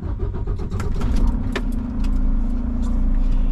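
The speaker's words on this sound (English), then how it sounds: "Let me crank the truck on up" Truck engine cranks with clicking and rattling as the starter turns, then catches and runs steadily nearby with a low, constant rumble, with no talk.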